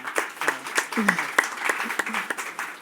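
Scattered clapping from a small audience at a panel on women's leadership, individual claps ringing out near and distinct over about three seconds while a voice keeps talking through them.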